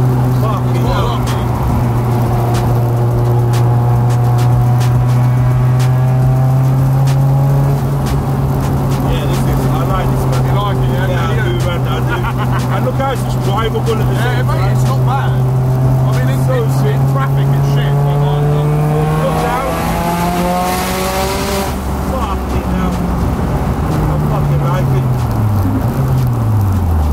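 A 1001 BHP Mitsubishi Evo 9 running nearly 40 pounds of boost drones loudly from inside the cabin, engine pitch holding then climbing and dropping through gear changes, with people talking over it.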